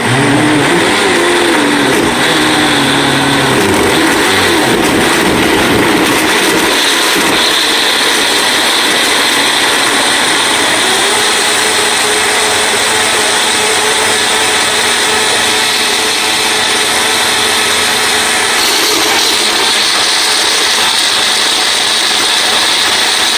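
A blender whirs through a raw food smoothie with ginger, a loud continuous motor drone. The pitch shifts and settles in the first few seconds as the chunks break down, then it runs steadily to the end with no talk.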